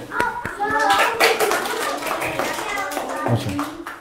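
Primary school children clapping in an English class, a quick burst of sharp claps near the front, mixed with children's chatter and voices throughout.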